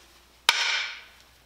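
A dead blow hammer strikes the metal rim of a wheelbarrow once, giving a sharp thud with a short bright ring that fades over about half a second, close and alone.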